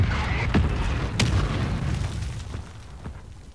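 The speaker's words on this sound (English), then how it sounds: "There's bombs all over the place." Bomb explosions in Modern Warfare 2 on PS5, several sharp booms and bursts in quick succession over a rumbling background that fades toward the end, with no voices.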